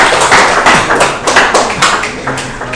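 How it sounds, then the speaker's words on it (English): An audience at an evening fellowship session claps in a loose, rhythmic patter of hand taps, fairly loud and steady, with no voices over it. "I usually demand for a clap."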